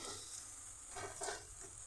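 Ghee-fried Gobindobhog rice being stirred into a simmering fish head curry for muri ghonto, a soft, steady sizzle with gentle stirring, fairly quiet and without talk.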